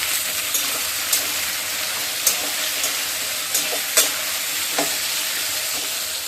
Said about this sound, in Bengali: এদিকে আলুগুলো ভাজা হয়ে আসছে।